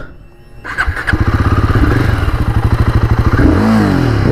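A 2025 Royal Enfield Guerrilla 450 motorcycle starts up close by: a brief starter whir, then the engine catches and settles into a loud, steady, throbbing idle, with no one speaking.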